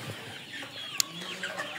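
Fifty-five-day-old hybrid Sonali chickens let out of their poultry farm shed into fresh air cluck softly and continuously at moderate distance, with one sharp click partway through.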